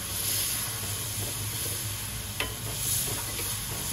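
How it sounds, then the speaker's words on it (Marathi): Kulith flour pithale is stirred in a hot pan. Soft scraping strokes ride over a low, continuous sizzle, with one sharper clack of the spoon partway through and no voices. "चांगले ढवळून घेऊया"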